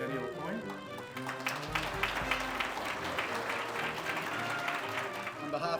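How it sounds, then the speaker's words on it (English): A crowd at a naval centennial gala gives a round of applause, dense clapping that carries on steadily, with voices mixed in underneath. "and a nice applause"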